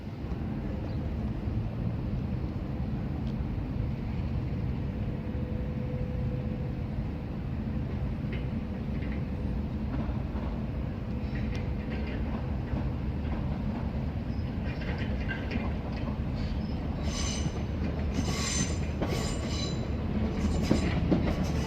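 A Class 466 passenger train rumbles steadily alongside a platform at Sittingbourne station, England, its low drone growing busier, with wheels squealing and clattering toward the end.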